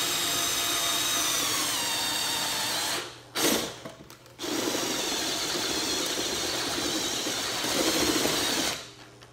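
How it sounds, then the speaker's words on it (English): A power drill whines steadily through the metal body of a vintage camera, stopping briefly twice before grinding on for several more seconds, close and loud. "I'm going to be drilling through metal"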